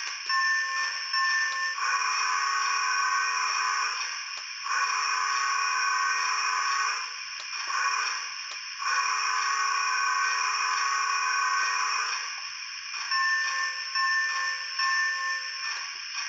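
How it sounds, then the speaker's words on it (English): Battery-operated O-scale Polar Express toy train plays its bell and whistle sequence, a loud electronic tone held in long blasts with short breaks between them. "The bell goes off while the whistle, which is two long blows, one short blow, and then one final blow as it crosses."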